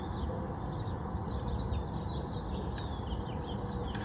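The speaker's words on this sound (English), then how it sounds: "The birds are singing." Birds sing and chirp faintly at sunrise beside the Mississippi River in Memphis, their calls riding over a steady low rumble of distant traffic on a nearby bridge.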